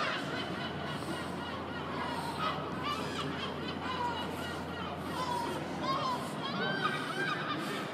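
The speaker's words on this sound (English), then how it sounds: "What's with all the seagulls?" Seagulls calling at a busy outdoor graduation gathering on a Saturday, a dense wash of honking, laughing gull cries overlapping continuously with crowd chatter and voices throughout.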